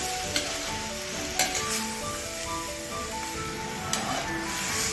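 Chicken curry sizzles steadily in a clay pot as a utensil stirs it, with a few sharp scraping knocks against the side.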